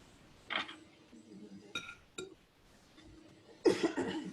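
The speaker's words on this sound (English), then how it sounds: "I'm coughing, but I don't have coronavirus, I promise." A few separate coughs break out nearby, with light clinks of glass or dishes in between.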